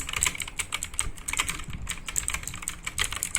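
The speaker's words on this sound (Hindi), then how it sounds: "तो गाइस ये है कीबोर्ड, आप देख सकते हैं, क्लिक की आवाज़ सुनिए गाइस" Keys on an Ant Esports MK3000 mechanical gaming keyboard click in rapid, continuous typing, a crisp close-up clatter with no talking.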